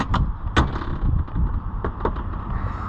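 A Polaris RZR Pro XP side-by-side door being handled, with a few sharp knocks and rattles of a thin, light panel close by, followed by duller handling thuds.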